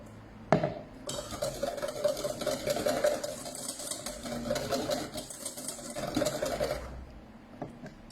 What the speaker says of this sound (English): keep whisking it over that heat